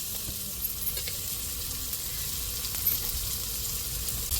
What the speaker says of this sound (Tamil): நல்லா வதங்கட்டும் தாளிப்புலையே